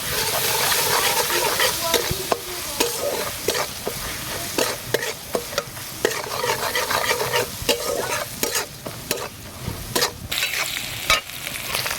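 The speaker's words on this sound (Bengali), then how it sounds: "এবার দিয়ে দেবো একটু আদা রসুন বাটা। এটাকে ভালো করে কষিয়ে নেবো।" Ginger garlic paste fries in a pan with a continuous sizzle. A spatula scrapes and taps against the metal in quick, irregular strokes while the paste cooks down, close and fairly loud.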